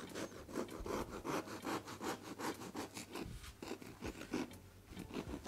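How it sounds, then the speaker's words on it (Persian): A serrated knife saws back and forth through a soft, uncut toast-style bread loaf, giving a steady rhythm of close, raspy scraping strokes with no talk. "با این چاقوهای اره‌ای اگه این کار رو بکنید، مخصوصا اگه واسه نون باشه که عالیه، کارتون تمیز در میاد"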